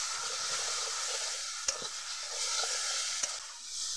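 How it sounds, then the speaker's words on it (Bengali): Chopped banana flower (mocha) sizzles as it is stirred in a frying pan with a spoonful of sugar, a steady soft hiss broken by two sharp taps of the spatula against the pan. "মোচাটাকে ভালো করে নেড়ে চেড়ে নিয়েছি"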